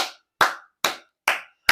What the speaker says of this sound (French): Applaudissons pour les Nigérians